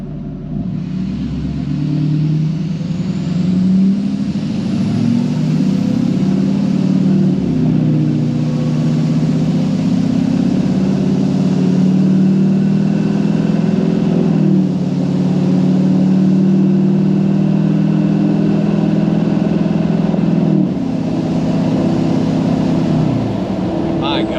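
Diesel truck engine cruising after an intercooler piping upgrade, a steady loud low rumble with slight swells in load, heard from inside the cab under occasional talk.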